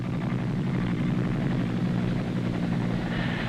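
A military helicopter flies steadily overhead in a war zone, its rotor and engine a continuous loud droning thrum that holds level throughout with no talk.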